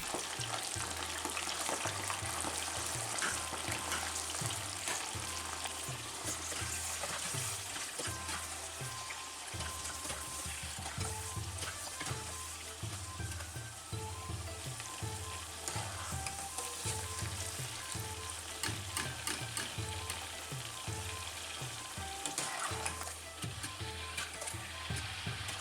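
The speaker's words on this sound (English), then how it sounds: "I'll let you watch while I fry them off." Raw king prawns fry hard in hot vegetable oil with a loud, steady, crackling sizzle that lasts throughout. A rhythmic low bubbling runs beneath it, and no one speaks.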